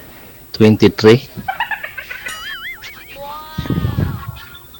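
Ducks calling, a burst of loud close quacks followed by softer honking calls, mixed with a whistling tone and people talking nearby.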